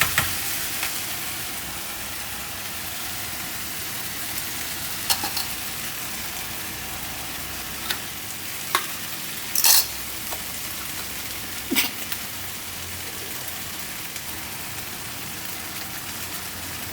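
Sauce poured over mince frying in a pan: a steady, close sizzle with a rain-like hiss that lasts throughout, broken by scattered clinks and scrapes of stirring, with no talk.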